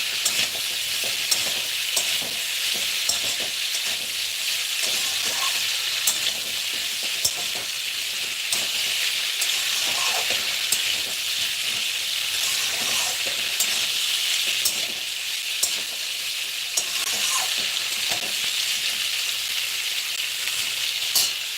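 Vegetables including pumpkin fry in a pan with a loud, constant sizzle and frequent clattering stirs of a spatula, close up.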